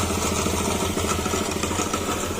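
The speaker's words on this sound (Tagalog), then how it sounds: "binira mo ng binira, dyan mo maririnig yung kalampag ng makina" Motorcycle engine with a worn crankshaft, running loud and close with a rapid rough clattering knock riding over a steady rumbling idle throughout.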